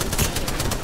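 Rapid gunfire in Apex Legends, a loud close burst of evenly spaced shots with no voices.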